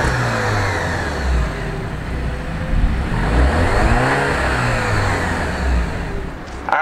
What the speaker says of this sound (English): Why don't we go ahead and fire it up?